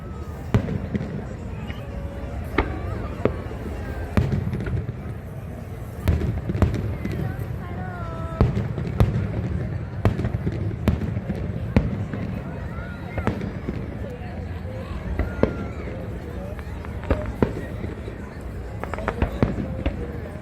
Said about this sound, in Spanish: Fuegos artificiales en la inauguración del desfile náutico de Newport Beach.